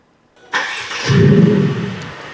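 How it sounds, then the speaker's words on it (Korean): Mercedes GLC 300 engine starting close by: a sharp crank catches, then settles into a loud, rising idle that continues steadily to the end. "시동을 한번 걸어 볼게요"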